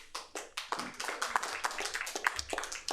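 Scattered applause comes from a small audience at a Bellevue city council meeting. Uneven, fairly light clapping rises quickly, holds for a few seconds and then thins out, heard moderately close in a quiet room.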